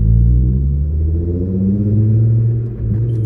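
Loud, close exhaust rumble from a Nissan Skyline R32 with the revs rising and falling in pitch, played like a tune, almost melodic, sustained for a few seconds.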